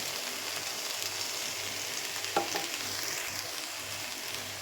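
Ghee sizzles in a pan while white pumpkin halwa cooks, a soft, continuous crackling fry with one faint clink partway through and no voices.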